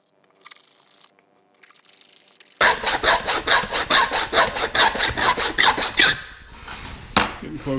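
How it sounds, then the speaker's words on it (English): Small jeweler's files rasp back and forth on a metal latch part during aircraft kit work, a close, steady run of about fifteen quick strokes after a quiet start. "I've got these little jeweler's files"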